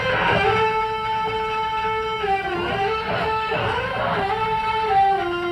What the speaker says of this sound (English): I put a lot of distortion in my voice